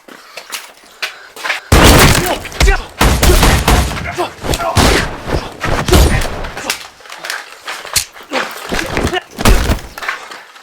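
A sound mix of gunfire effects and Foley for a Call of Duty parody: loud bursts of gunshots and automatic fire come in clusters, with thuds and breaking impacts separated by short gaps.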